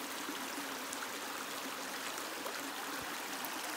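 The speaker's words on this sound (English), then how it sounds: "Say goodbye to the stream, waterfall, say thank you," Steady broadband rush of a flowing stream and waterfall, continuous and even throughout with no voices.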